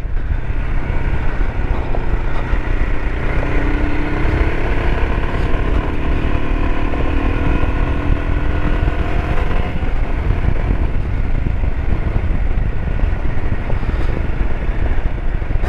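Royal Enfield Himalayan adventure motorcycle riding at speed, its engine droning steadily with rising and falling pitch under heavy, constant wind rush for the whole stretch, loud and close.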